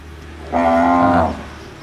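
A cow on a cattle farm lets out a single loud, close moo lasting under a second, rising and falling in pitch, with quiet farm ambience before and after.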